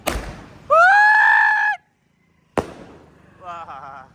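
A sky shot firework launched during a family Diwali celebration at a new home: a close sharp bang, then a loud rising whistling screech for about a second, a second bang and a softer warbling whistle.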